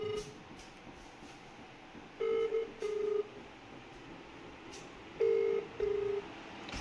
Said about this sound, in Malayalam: അമ്മേനെ വിളിച്ച് വയ്ക്കാം